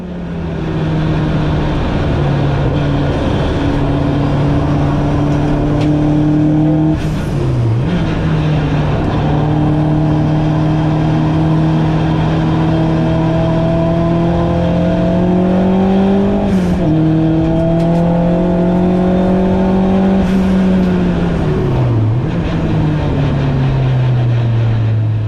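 A race car circles the Silverstone GP circuit in a BRSCC ClubSports race, with a loud, steady onboard engine drone and a few audible gear changes while slower back markers are passed.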